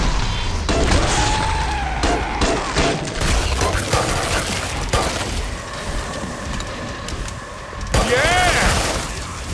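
Rapid automatic gunfire in the video game Killing Floor 2, dense bursts and booms filling the scene, with chaotic effects throughout and a voice talking over it.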